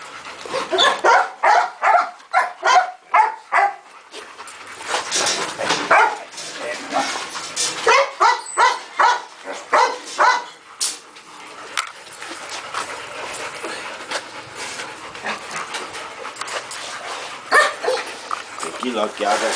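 A Rottweiler and a Pitbull on a farm barking in quick bursts, then yipping and whimpering, with people talking over and between the barks throughout.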